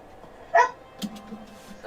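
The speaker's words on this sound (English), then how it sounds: "Sorry about my dog." A dog gives a short, sharp yelp followed by a fainter whimpering whine, close by but quiet, over low background noise.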